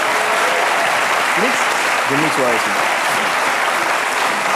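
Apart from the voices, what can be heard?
studio audience applause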